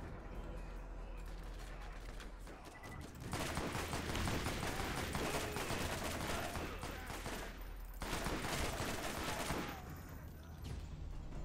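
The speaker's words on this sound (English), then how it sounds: "I like this assault rifle way more. It moves, it shoots way faster." Rapid assault rifle fire in the shooter game Borderlands, two long sustained bursts of fast automatic shots with a short pause between them, loud and dense.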